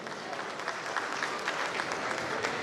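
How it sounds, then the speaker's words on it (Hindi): An audience at an All India mushaira applauds a social worker receiving an award, a steady, dense wash of clapping from a crowd that holds at an even level throughout. "जोरदार तालियों के साथ हम शहाबुद्दीन हैदर साहब का इस्तकबाल करते हैं।"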